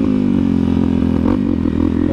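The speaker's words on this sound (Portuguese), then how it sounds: "o Henrique acelerou" A Honda CRF dirt motorcycle ridden on a farm trail gives off a loud, steady buzzing engine drone up close, with a slight shift in pitch as it accelerates.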